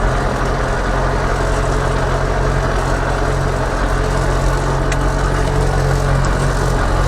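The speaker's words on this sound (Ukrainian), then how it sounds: "Як бачите, я вже в своєму тракторі, а ще й їду." A YuMZ-6 tractor with a D-240 diesel engine, bonnet removed, runs steadily while driving, giving a loud, continuous low rumble with no break or change in pace.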